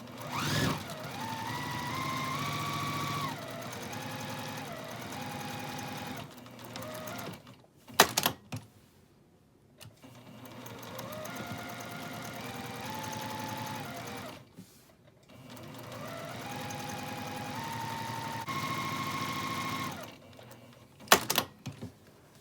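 Sewing machine stitching the lining of a quilted Christmas stocking, running in three long steady bursts with brief pauses and short clunks between runs, close and continuous.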